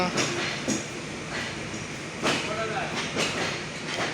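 Chitra Express train passing at night at Kotchandpur, a steady rolling rumble of coaches with faint rhythmic wheel clatter and occasional louder thumps, heard from close by with no talk over it.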